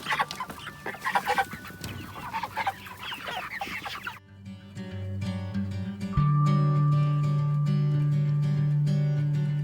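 Chickens clucking out on an Oregon pasture, several birds calling in a busy, irregular stream over the first half before the sound gives way to a steadier, louder tonal backdrop.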